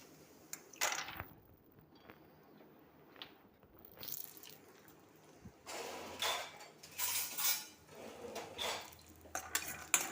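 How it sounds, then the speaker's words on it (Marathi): Peanuts roasting in a little oil in a pan for a Maharashtrian modak vade rassa, heard as scattered clinks and scraping of a utensil against the metal pan with soft sizzling, close and moderately loud, with no talking. "आता आपल्याला असे मस्त भाजून घ्यायचे शेंगदाणे तेलामध्ये थोडेसे."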